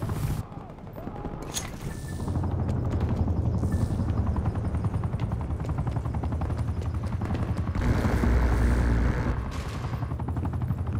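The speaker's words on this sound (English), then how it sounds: "Establish attack chopper above." Attack helicopter rotors drone overhead in Call of Duty: Black Ops Cold War, a steady loud wash mixed with bursts of gunfire and battle noise throughout.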